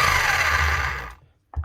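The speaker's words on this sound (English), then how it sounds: "Motor's running, hammer's going." A Keyang electric hammer, repaired after its motor seized, runs loud and close with a dense steady whirring buzz, then winds down and cuts out, followed by a brief knock.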